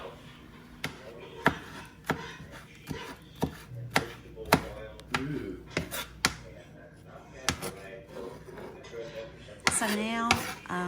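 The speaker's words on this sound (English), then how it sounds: "Just chopping up a few vegetables and making your cornbread," Repeated knife chops strike a cutting board in an uneven rhythm, close by, with occasional kitchen clatter and a voice talking at times.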